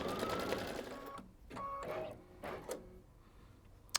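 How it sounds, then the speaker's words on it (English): Embroidery sewing machine stitching down a quilt block, a steady mechanical whirring that runs in bursts with brief pauses between runs of stitches, close and moderately loud. "it's going to stitch that down"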